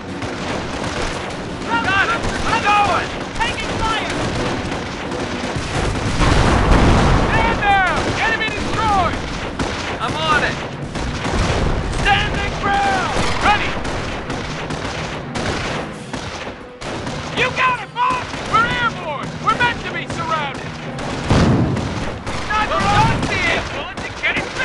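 Dense battlefield racket in the Company of Heroes WWII strategy game: continuous rifle and machine-gun fire with booming explosions, loud and sustained, with shouted voices over the fighting.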